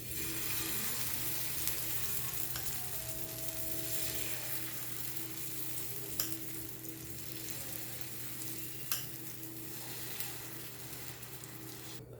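Oats and vegetable omelette batter hits a hot pan and settles into a steady, even sizzle that runs unbroken throughout, with a few faint clicks and kitchen knocks scattered over it.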